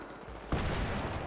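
A sudden burst of rapid gunfire in Battlefield 3 erupts after a quieter moment, dense and crackling, continuing to the end.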